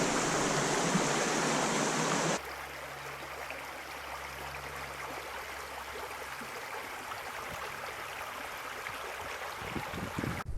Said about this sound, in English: right next to a beautiful flowing river